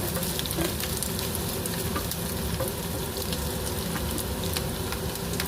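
Potatoes and carrots stir-fry together in a hot pan, giving a loud, dense, continuous sizzle with crackling pops throughout and no voices.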